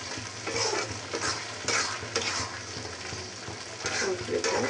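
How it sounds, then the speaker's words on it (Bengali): Tomatoes fry and sizzle in a pan for tomato chutney while a utensil stirs them in repeated scraping strokes, close and steady, over a constant hiss of hot oil. "ভেজে নেওয়ার পর আমার এটা অনবরত ভেজে নাড়তে হবে।"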